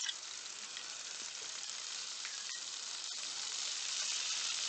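Homemade lemon pepper and barbecue chicken chunks sizzle steadily in a skillet, a dense, even hiss with a few faint pops and clicks, close and continuous with no talking.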